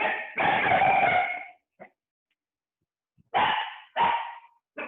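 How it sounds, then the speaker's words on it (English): Puppies in an animal shelter's puppy nursery bark in short bursts, one longer yapping run then a few sharp separate barks with quiet gaps, fairly close and clear. "So we have our puppy nursery here."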